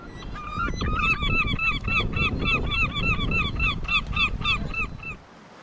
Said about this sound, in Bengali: হঠাৎ এক ঝাঁক পাখি